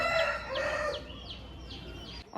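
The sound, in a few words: rooster crowing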